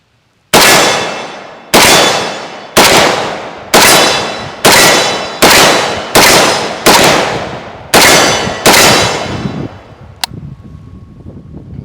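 An AK-47 rifle fires about ten sharp, loud shots at a steady, deliberate pace outdoors, each blast ringing briefly, followed by wind noise.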